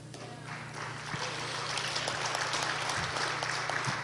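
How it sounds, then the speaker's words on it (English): Older audience at a talk applauding, a steady broadband patter of clapping that swells after the first second and holds fairly evenly, moderately distant and not very loud. "Glad to get an applause from an older crowd on that one."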